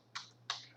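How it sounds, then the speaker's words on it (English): Two quiet, crisp keystrokes on a computer keyboard, spaced about a third of a second apart, close and isolated against a faint steady hum. "you want to type in the command ipconfig"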